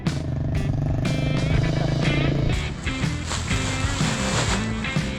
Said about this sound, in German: Stück für Stück transportieren wir die Säcke mit dem Motorrad zu den Maschinen.